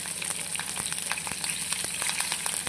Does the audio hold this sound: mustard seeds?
yes